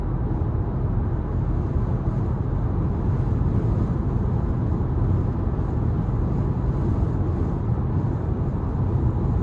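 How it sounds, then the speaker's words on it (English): Wind noise inside a quiet 2025 Toyota Camry XLE on the move: a steady, low, broad rumble of wind and road, even and unbroken throughout, with no voices. "where the car's so quiet, I can hear the wind a bit more than I could in probably a typical vehicle"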